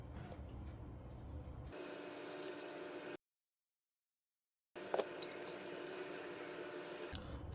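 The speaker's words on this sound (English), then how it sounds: "we're gonna strain the milk again." Coconut milk strained through a sieve into a bowl gives faint, soft liquid trickling and dripping, broken by a brief silent gap partway through.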